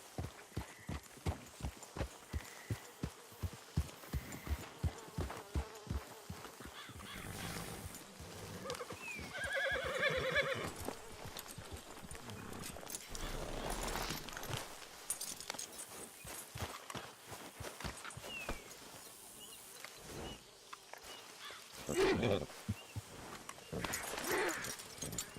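Horse hooves clip-clop in a steady rhythm in the video game Red Dead Redemption 2, with a clear neigh and whinny rising mid-way over ambient game sounds and occasional voices.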